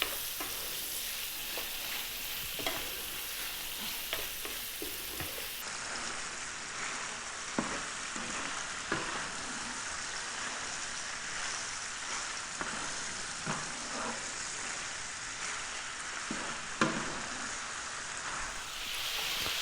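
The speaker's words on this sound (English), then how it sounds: "Medium heat, nothing too crazy. Just going to brown this off." Lamb browning in a pan over medium heat with thyme and bay leaf makes a constant soft sizzle and crackle. Occasional spoon scrapes and taps stand out above it, with no voices.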